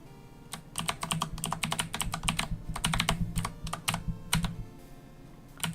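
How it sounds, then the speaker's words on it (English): Rapid, constant clacking from a computer keyboard during a Pokémon ROM hack game session: irregular clusters of close, crisp keystrokes with no talking. "it's probably not a great watching experience if you're just hearing constant keyboard noises"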